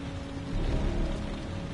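Steady rain falls in the video game Heavy Rain, a soft hiss of drops that swells slightly midway and continues alone, with no voices.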